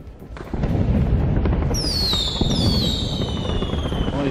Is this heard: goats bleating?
no